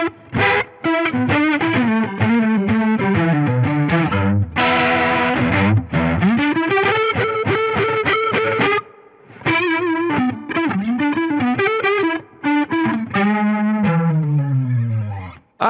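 Electric guitar heavily distorted with a shimmering chorus effect, played through an Injector Bridge, a continuous melodic phrase up close with brief gaps between notes.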